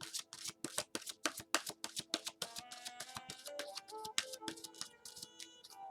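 Oracle cards for a love and romance reading being shuffled by hand, a quick series of crisp riffling and slapping card sounds, close and fairly quiet with no talk.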